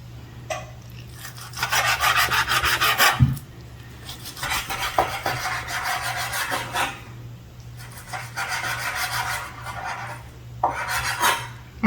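A knife saws back and forth through steak, cutting it into strips, in repeated rasping strokes against a board, close and clear, with short pauses between cuts and a faint low hum underneath.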